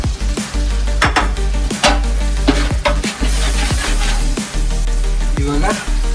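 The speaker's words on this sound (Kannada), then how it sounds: "ಶುಂಠಿ ಪೇಸ್ಟ್ ಹಾಕ್ತಾ ಇದ್ದೀನಿ" Ginger paste fries in a large pot on a small stove, sizzling steadily while a utensil stirs and scrapes in repeated rhythmic strokes, close and loud.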